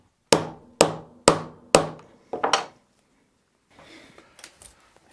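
A hammer strikes a punch to make a hole in a strap tongue, with five sharp, close blows followed by a quick double tap. Quieter handling noises follow.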